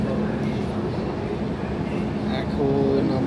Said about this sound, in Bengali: মেট্রোতে এসে বসে গেলাম।